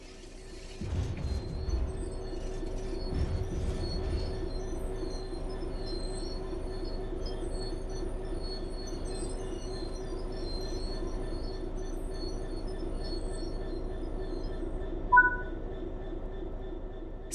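Steady rumble of a train braking in Train Sim World 4, with high metallic wheel squeal running throughout, ending in a short sharp hiss of air as it comes to a stop.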